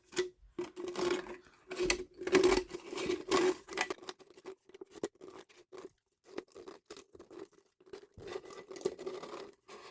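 A plastic soda bottle being cut for a lamp craft, heard as a series of close crunching, scraping cuts and crinkles in irregular bursts with short pauses between.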